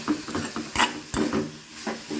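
Garlic and radish being stirred in a pan for tempered radish: a spoon scrapes and clacks against the pan in an irregular rhythm over a soft sizzle, close and moderately loud.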